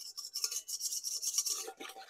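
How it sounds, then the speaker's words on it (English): A whisk beats a yeast and brown sugar mixture in a bowl, making rapid, rhythmic scraping and rasping strokes. The sound is close and continuous with nothing else heard. "I'm just going to whisk this together"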